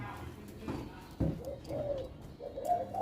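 Spotted dove cooing in a bird-keeping camp, a few soft, low coos close by, mixed with someone talking and some handling noise.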